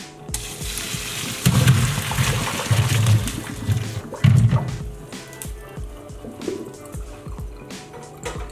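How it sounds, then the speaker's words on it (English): Boiled potatoes and their hot water are tipped into a strainer, making a rushing, splashing pour in a few surges, then gentle dripping and trickling as the water drains away. "Grab your strainer to drain the potatoes"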